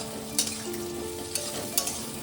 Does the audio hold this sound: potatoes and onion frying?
yes